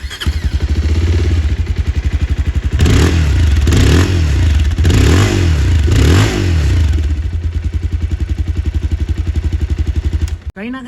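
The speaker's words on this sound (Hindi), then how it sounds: "अब मैं आपको सुनाता हूँ इस एग्जॉस्ट की आवाज़।" Exhaust note of a 2026 Bajaj Pulsar 220F motorcycle, loud and close: a steady throbbing idle lifts into several revving blips, then drops back to idle before cutting off abruptly at the end.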